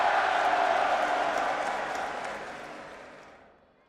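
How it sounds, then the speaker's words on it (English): At a fight event, a large arena crowd cheers and applauds in a dense, roaring wash that is loud at first and then gradually fades away toward silence. "The crowd is absolutely eating this up."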